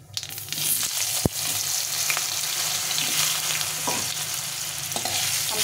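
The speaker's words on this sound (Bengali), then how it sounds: "দিয়ে আমটাকে ভালো করে ভেজে নেব" Mango pieces frying in a wok with mustard seeds, cumin and a dried chilli, a continuous moderate sizzle broken by occasional spatula stirs and one sharp clack.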